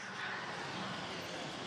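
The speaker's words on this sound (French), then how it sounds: "On entend l'hélicoptère qui va s'envoler là-bas." A helicopter about to take off at the start area of a cycling time-trial stage gives a faint, steady engine drone in the distance, a low continuous wash with no voices on top.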